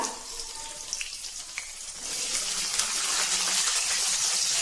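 Green peas are tipped into a frying pan with garlic cloves and cumin powder, a few light rattling taps giving way to a rising, steady sizzle of frying, close and without voices.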